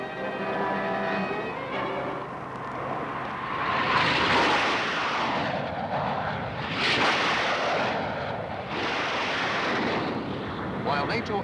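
NATO military aircraft flying, a loud continuous jet roar that swells and fades in broad waves across the whole stretch, with engine rumble underneath and no voices.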